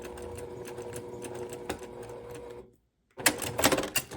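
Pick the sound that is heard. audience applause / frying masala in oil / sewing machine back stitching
sewing machine back stitching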